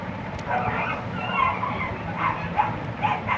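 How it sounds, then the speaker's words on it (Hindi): Dogs bark repeatedly at night somewhere outside a home, several moderately distant barks and yips rising over steady low background rumble and a faint voice. "तो कुत्ता सब कितना भौंक रहा है।"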